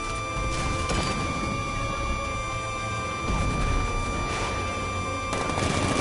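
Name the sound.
tank 60mm cannon firing in a Batman video game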